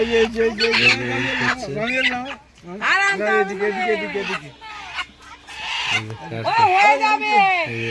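Chickens squawk and cluck loudly, close up, as they are caught for slaughter at a home gathering on the Bengali New Year, with people talking over them.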